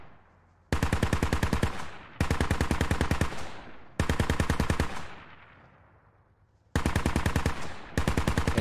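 Sustained automatic machine gun fire in the tactical shooter game Squad, loud and close, rattling out in several long bursts separated by brief pauses, with lingering echo after each burst.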